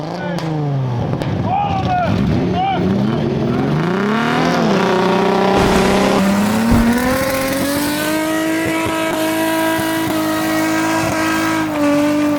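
Car engine revving hard and accelerating to pull apart glued plates, a loud rising and falling engine tone with tire noise held close for several seconds, with talk over it.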